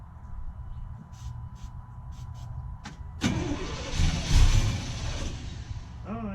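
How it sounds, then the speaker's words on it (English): A 1992 Chevy Silverado truck with a newly replaced fuel pump is quiet at first, then its engine cranks and catches at about the midpoint. It settles into a loud, close idle. "let's see if she fires up."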